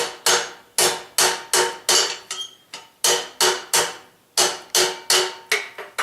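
Blacksmith's hammer strikes ring out on a twisted steel bar being forged down to a taper on an anvil, a steady series of sharp metallic blows at a brisk, regular rhythm with short pauses, close and loud.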